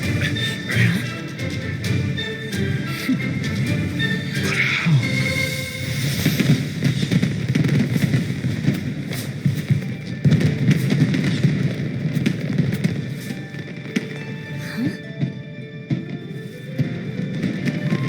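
Fireworks show in the video game Genshin Impact, with a dense run of crackling bursts and booms over a steady rumbling bed, continuous and fairly loud throughout, no talking.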